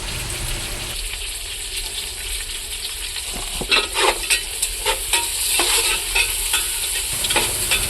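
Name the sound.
chicken being added to pot for dum biryani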